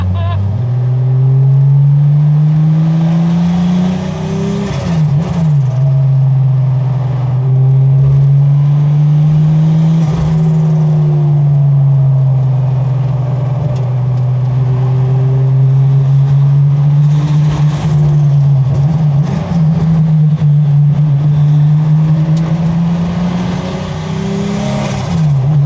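A sports car engine revs hard on a Tokyo highway at night, loud and close, pitch climbing and dropping through repeated gear changes, with voices talking over the engine at times.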